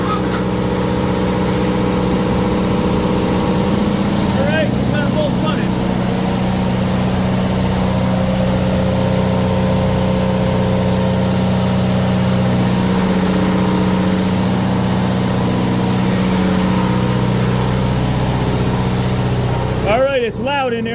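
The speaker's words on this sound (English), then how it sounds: "We got both the primary and the backup generators running for this test." Two Onan generators, a DJC and a JB, running together on a cool rainy December day: a loud, steady idling drone that holds throughout, with a brief mechanical clatter near the end.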